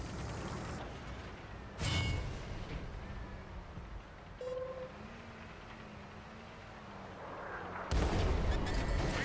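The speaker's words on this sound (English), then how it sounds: "And then artillery." Artillery fire in a tank combat game, Object 268 Version 4, booms out in a few heavy bursts over a steady low engine rumble.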